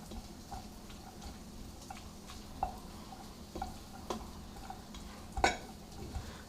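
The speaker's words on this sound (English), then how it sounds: "I'm just gonna give it a nice stir up." Pasta with olive oil is stirred in a pot, giving quiet, scattered scrapes and clinks against the pot over a low background hum, with one sharper knock near the end.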